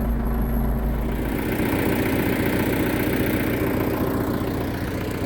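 An old tractor engine on an off-grid property runs steadily, a loud, close, continuous low rumble with an even chugging idle and no talking.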